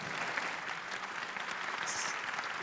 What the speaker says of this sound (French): Il faut la remercier et l'applaudir, à mon avis.